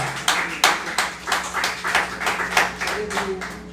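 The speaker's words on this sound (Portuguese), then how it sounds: "aplauda o Senhor com o seu melhor" A church congregation clapping during an evening service, a series of loud, regular claps from many hands in a roughly steady beat, with a low hum and a brief voice underneath near the end.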